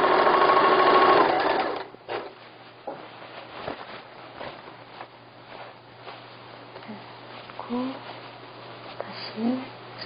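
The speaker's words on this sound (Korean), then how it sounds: "박음질을 잘해주세요." A sewing machine stitches a fabric bed cover with a close, loud mechanical whir for a couple of seconds, then stops, followed by quiet handling noises and a soft voice speaking.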